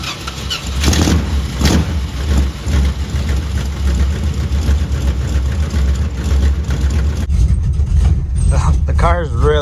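Heavy engine of a 1979 Western Star truck with an 8V71 Detroit diesel rumbling and straining loudly in a muddy field, a steady low drone with voices over it.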